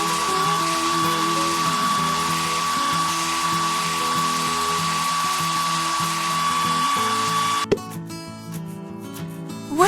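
A hair dryer blows a loud, steady electric whine while drying a lamb in a children's farming video game, running continuously for about eight seconds before cutting off into brief game sound effects.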